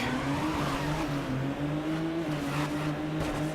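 In the Midnight Club 2 video game, a car's engine drones at steady high revs while its tires squeal through a handbrake turn, a loud continuous whine lasting the whole stretch with no voices.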